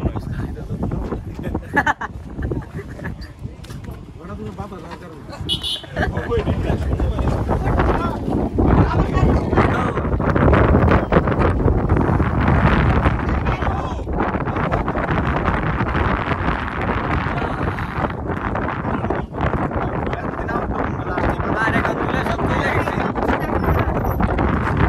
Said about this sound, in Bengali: হঠাৎ করে তো বাতাস আসার কারণ কি?